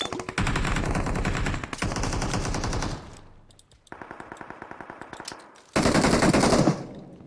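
Automatic machine-gun fire and single gunshots crackle through a video game battle at a palace, dense sustained bursts broken by a short lull, then resuming in rapid repeated volleys, loud and close.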